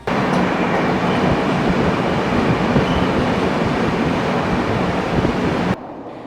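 A Rajdhani express rumbles through the long Karbude tunnel on the Konkan Railway, a loud, steady roar of wheels and carriages with faint clickety-clack that drops off abruptly near the end.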